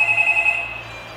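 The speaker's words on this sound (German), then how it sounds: "Im Schulhaus läutet das Telefon vom Vorverkaufssturm." A telephone rings inside a school building, a short, clear electronic trill that sounds once and fades within about a second, with no voices around it.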